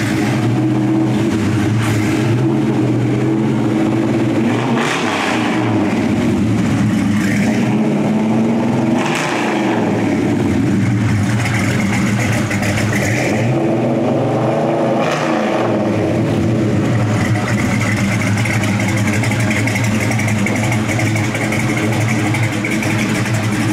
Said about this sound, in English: Let's have a listen to the exhaust headers with Flowmaster exhaust system.